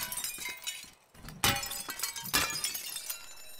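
Glass smashes in the video game Teardown, with two sharp shattering crashes amid a busy, noisy game soundscape and no talking.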